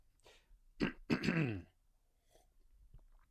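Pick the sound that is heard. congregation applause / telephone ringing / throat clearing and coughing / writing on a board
throat clearing and coughing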